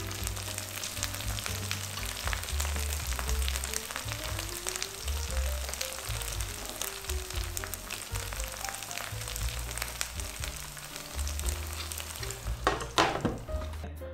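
Pork and shrimp potstickers pan-fry in a hot pan with a loud, continuous sizzle and crackle that stays close and steady throughout, with a brief sharper hiss near the end.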